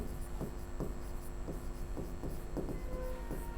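A pen or chalk writes in short strokes, a series of faint scratchy marks spaced about half a second apart over a steady low background hum.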